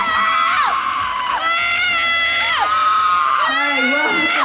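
A crowd screams, whoops and cheers for actors welcomed onstage at a live Mediacorp drama event, with loud high shrill voices rising and falling continuously over several seconds, close and intense.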